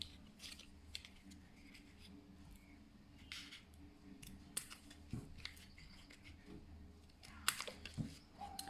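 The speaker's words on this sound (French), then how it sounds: "Donc pour découper les pétales, vous prenez des petits ciseaux" Small scissors snip petals from a cardboard egg carton, a series of sharp, close, irregular clicks and crunching cuts over quiet background.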